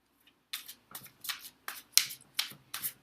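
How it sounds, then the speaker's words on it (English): A tarot card deck being shuffled in quick, crisp bursts, about eight short riffling rustles in a steady rhythm, close and clear with no talking. "My shuffling is also, I usually shuffle the other way before"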